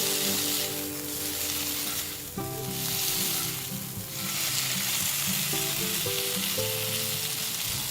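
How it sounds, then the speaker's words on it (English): Okra frying with amchur powder in a covered pan, a loud continuous sizzle swelling and easing, with steady tonal hum underneath, close by. "now cover the pan and leave the okra to cook"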